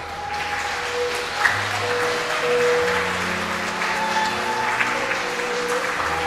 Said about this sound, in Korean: 양가 어머니께서 입장하실 때 뜨거운 박수 부탁드립니다